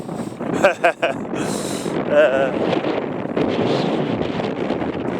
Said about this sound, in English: It's a bit breezy out today.